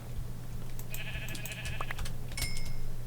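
Sheep bleating in a modded Minecraft-style game: a few faint, wavering bleats and brief game clicks sitting over a steady low hum, with no speech.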